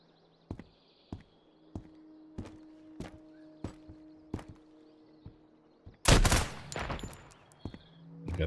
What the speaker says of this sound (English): Got the first shot off.